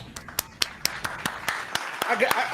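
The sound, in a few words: applause sound effect played from a button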